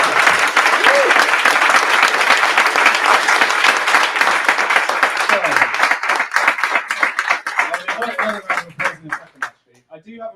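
Loud, dense applause from a conference audience thanking two speakers named Abby, thinning into scattered individual claps that fade out toward the end.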